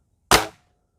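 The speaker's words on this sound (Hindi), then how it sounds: "लगाएंगे हम शॉट।" A single sharp crack from a Hatsan Torpedo 100x .22 air rifle, a close, loud snap with a quick decay and a brief faint ringing tail, then silence.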